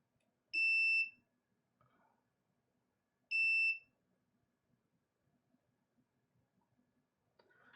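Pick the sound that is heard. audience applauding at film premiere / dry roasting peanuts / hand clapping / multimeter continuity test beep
multimeter continuity test beep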